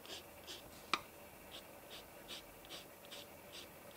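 Faber-Castell Albrecht Dürer watercolor pencil coloring on paper, soft, close scratchy strokes repeating at a slow even rhythm, with one sharper tap near the start, quiet and without talk.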